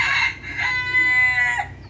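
A rooster crows once, loud and close, its harmonic call stretching across nearly two seconds before trailing off.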